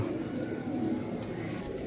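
Soft, low cooing of Sialkoti pigeons repeats quietly over a dull background hum.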